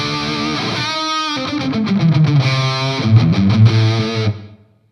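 An electric guitar runs through a Mooer R7 reverb pedal on its room setting, playing distorted chords and single notes that ring out and then fade into a short reverb tail.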